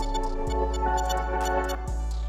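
A synth pad run through the Portal plugin's Assembled preset gives a glitchy, stuttering texture of chopped, shifting tones with small clicks and a few sharper accents, playing alone.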